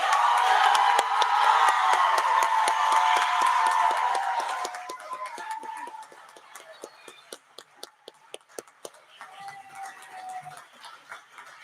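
An audience at an alumni artist panel and award ceremony applauds and cheers for student award recipients: a dense, loud burst of clapping that thins after a few seconds into scattered individual claps.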